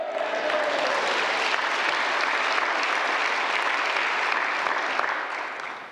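A large church congregation at a New Year revival service claps together in a broad, continuous wash of applause, steady in level and tapering slightly at the end.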